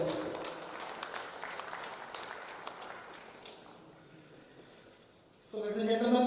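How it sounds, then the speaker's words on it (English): Conference audience applauding after a speaker's call, a broad patter of clapping that is loud at first and gradually thins and fades over several seconds before a voice comes in. "A big round of applause, please."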